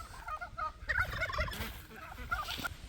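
Several turkeys gobble in bursts of rapid warbling calls, moderately close, with brief pauses between outbursts and no talking.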